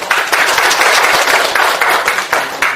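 An audience at a National Assembly seminar marking the 70th anniversary of Korean liberation applauds steadily for the whole stretch, a dense, even wash of many hands clapping close and loud.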